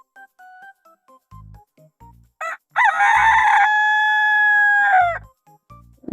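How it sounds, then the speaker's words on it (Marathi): Village chickens drinking water make short, separate clucks nearby, then a rooster nearby lets out one long, loud crow before the clucking resumes. "तर इथं कोंबडी पाणी पिवलेले"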